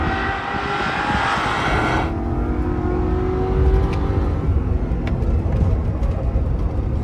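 A Corvette accelerating hard on a race track, a loud rising engine roar with a sharp tonal change partway through and a sustained powerful drone that follows.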